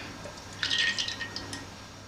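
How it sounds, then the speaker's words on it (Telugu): Cooking oil poured into a pot for a mutton and cauliflower curry, a short close glugging splash of liquid lasting about a second, with faint drips trailing off in a quiet kitchen. "ఇప్పుడు నూనె పోతాము."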